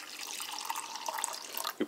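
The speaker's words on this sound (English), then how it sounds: "you pour the water into this mug" Water pouring steadily into a mug for French vanilla cappuccino, a soft continuous trickle heard up close that ends with a small clunk.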